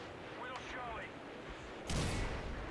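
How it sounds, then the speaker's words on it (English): A Predator missile strike in Call of Duty MW3 lands as a sudden loud blast about two seconds in, following a stretch of fainter distant in-game rumble and pops. "Predator missile!"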